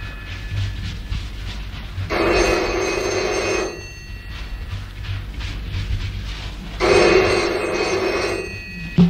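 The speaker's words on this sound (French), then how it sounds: "on entend toute une série de bruits de téléphone, de portières" Telephones ringing in a crowded healer's office, two long bursts of bright electronic ringing separated by a pause, over a low rumbling background.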